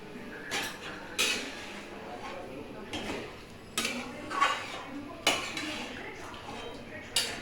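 A spoon or ladle stirs chicken curry in a metal cooking pot, giving a series of short scraping clinks and knocks at irregular intervals, close by and moderately loud, with faint voices in the background.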